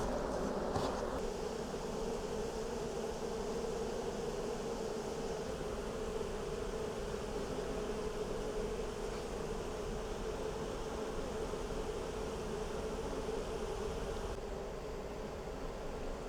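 A swarm of Buckfast honeybees buzzes steadily outdoors, a dense continuous hum that holds at an even level throughout, with no talk over it.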